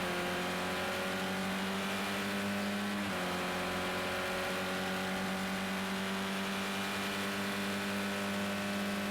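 Race car engine in the Project Cars 2 racing game, a steady loud drone with sustained harmonic tones and a brief dip in revs near the three-second mark before it pulls again, with no talk.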